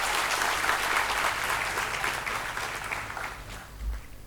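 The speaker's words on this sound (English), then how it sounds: "give them an applause first for doing this" An audience at a packed inauguration event for Mission Admission 2024 bursts into steady, full-room applause, a dense wash of many hands clapping that holds throughout and tapers slightly near the end.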